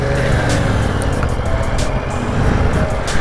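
A stock 2024 Yamaha R7 motorcycle is ridden on the road, its quiet engine a low hum under steady rushing wind noise throughout.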